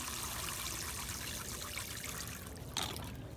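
Water trickles and pours steadily into the soil around strawberry plants from a watering can or hose, a continuous close wash of liquid with no talk.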